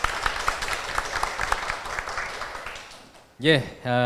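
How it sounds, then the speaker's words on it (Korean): An audience at a live podcast recording applauds steadily for about three seconds, the clapping dense and close, then fades as a voice begins speaking. "뜨거운 박수 부탁드리겠습니다"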